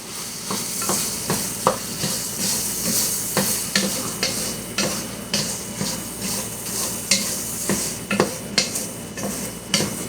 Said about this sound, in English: now we're going to add our onions to the carne. Okay? We're going to mix it.